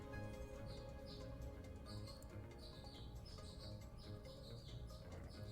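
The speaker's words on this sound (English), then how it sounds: "I think it's birds. I have birds here on the porch." Birds on a porch chirp in short, repeated high tweets scattered across the whole stretch, very faint and distant beneath a steady low background hum.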